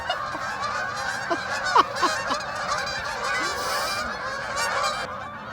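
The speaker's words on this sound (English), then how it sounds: "Three sets of geese." Geese honk repeatedly in a noisy overlapping chorus, with a few louder calls standing out nearby against a constant outdoor hum.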